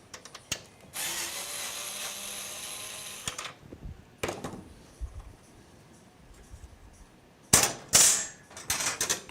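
Tightly torqued screws come out of PC case fans in a white RTX 5080 build, with sharp metallic ratcheting bursts, a long buzzing stretch and scattered clicks and clanks close to the microphone.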